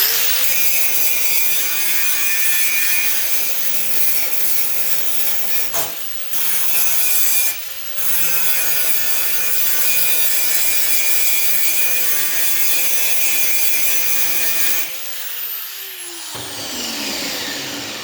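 Grinder working down a weld on thin sheet metal for a patch panel, a loud continuous whine with two brief pauses, then the tool spins down near the end.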